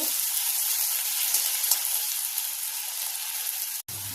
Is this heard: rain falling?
no